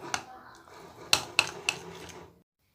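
A homemade hair detangler being stirred in a bowl, with a few sharp clinks of utensil on the dish over soft scraping, close and brief.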